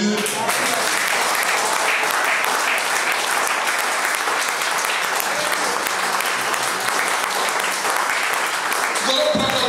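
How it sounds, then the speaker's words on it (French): A church congregation applauds and cheers for Jesus in dense, sustained clapping that fills the hall, with voices rising under it throughout. "On peut acclamer Jésus"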